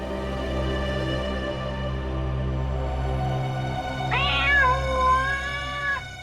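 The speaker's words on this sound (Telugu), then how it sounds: "ఈ పిల్లి సౌండ్ ఎక్కడి నుంచి వస్తుందిరా?" A cat meows in a drawn-out, wavering cry about two seconds long near the end, heard up close after a stretch of low steady background hum.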